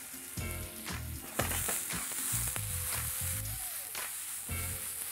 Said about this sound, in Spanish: Brócoli cortado y se va para la sartén también.